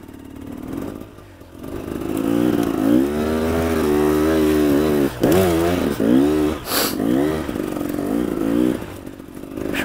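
Enduro motorcycle climbing uphill, its engine revving loud and close with rising and falling pitch as the rider works the throttle, with a brief dip mid-climb.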